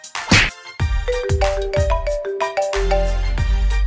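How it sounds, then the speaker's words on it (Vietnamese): A mobile phone ringtone plays loud and close, a bright melodic chime of repeating tones over a sustained low backing. "Điện thoại của ai đang reo vậy?"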